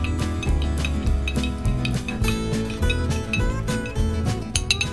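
Stirring a Scotch whisky cocktail, light metallic clinks and tinkles against glass over steady background music, close and moderate in level, without speech.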